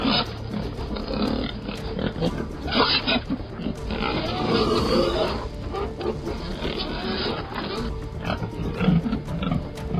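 Wild boars being brought to a farm grunt and squeal in a dense, continuous chorus of rough animal calls, loud and close throughout.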